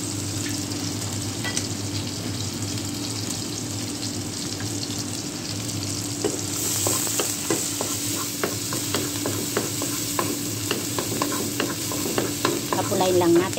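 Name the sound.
fried rice with garlic and onion frying and being stirred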